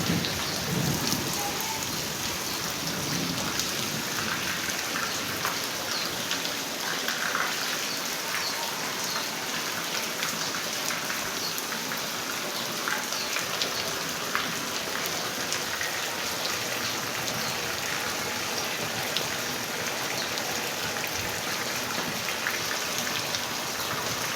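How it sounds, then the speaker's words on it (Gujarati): Heavy monsoon rain pours steadily on a farm, a dense unbroken hiss of drops on surfaces with low thunder rumbling beneath, loud and continuous throughout with no voices. "ગાજે છે એ પ્રમાણે વરસાદ આવ્યો છે મિત્રો"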